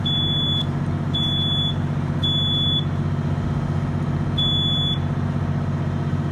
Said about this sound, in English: There's our smoke detector, early warning.